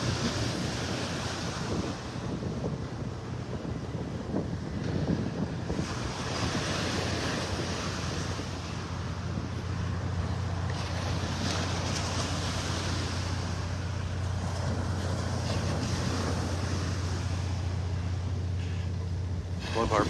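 Small surf lapping steadily on Vanderbilt Beach in North Naples, Florida, a continuous wash of waves with gusty wind noise on the microphone throughout and a faint low engine hum, no one speaking.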